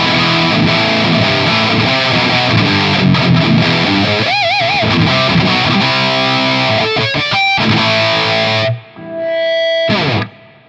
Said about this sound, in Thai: เดี๋ยวลองเปิดเอฟเฟคดูเลยนะครับ